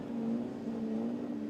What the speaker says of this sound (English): The 5-second board goes out, the revs increase